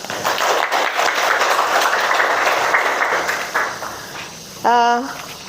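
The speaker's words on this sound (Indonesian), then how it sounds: "Oke, tepuk tangan untuk kalian semua." A school class applauding at the end of a lesson, clapping under a wash of room noise that fades and is followed by a short tonal sound near the end.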